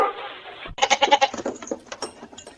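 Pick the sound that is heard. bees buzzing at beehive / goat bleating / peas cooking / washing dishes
goat bleating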